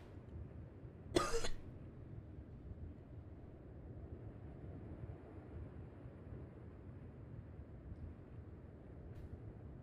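One short, sharp human cough bursts out near the start, close and loud, over a low steady rumble of background noise that continues alone afterward.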